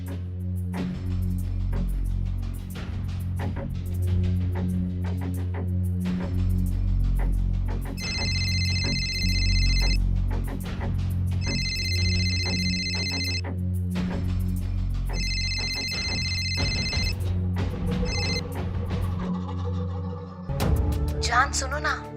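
An electronic phone ringtone rings in three repeated bursts, then a brief fourth, over steady background talk and low sound.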